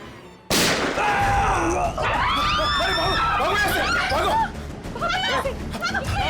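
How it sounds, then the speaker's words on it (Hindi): A single sudden, loud gunshot cuts through indoors, followed by a stretch of noisy commotion with voices and scattered sharp sounds. "अंदर गोली चली अंदर"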